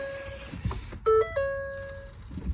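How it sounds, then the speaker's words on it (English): A Ford F-150 pickup chimes in TPMS training mode: a few clear electronic tones step up and hold, close and distinct inside the cab, with faint background noise. "You heard the beep?"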